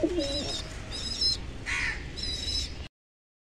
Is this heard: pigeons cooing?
yes